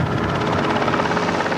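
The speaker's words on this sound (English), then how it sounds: "Coming up is one of the news helicopters" A news helicopter passes overhead during a bicycle ride in Fairfield, Iowa, its rotor chopping in a loud, rapid, steady pulse.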